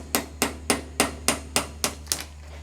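Eight evenly spaced sharp metallic hammer blows on a puller tool fitted to a frozen Jeep engine, loud and close, with no talk.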